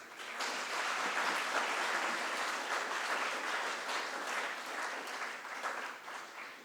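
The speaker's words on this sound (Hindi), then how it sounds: "जोर से ताली बजाएंगे इसके लिए।" An audience at a Republic Day celebration at Nav Sadhana Kala Kendra in Varanasi claps loudly and steadily, with dense applause that holds for several seconds and then tapers slightly.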